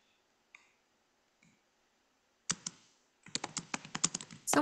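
Keys clatter on a loud keyboard or typewriter, a few isolated clicks first, then a quick burst of close, sharp keystrokes in rapid succession toward the end.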